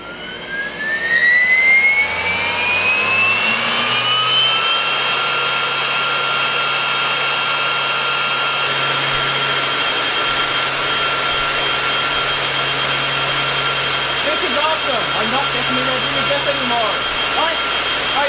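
An IMC Magnetics 400Hz vaneaxial aircraft fan spools up with a rising whine into a loud, steady jet-like roar that holds with a high tonal hum, very close.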